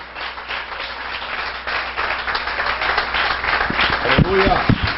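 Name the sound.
congregation applauding in church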